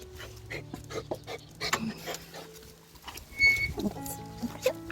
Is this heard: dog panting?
yes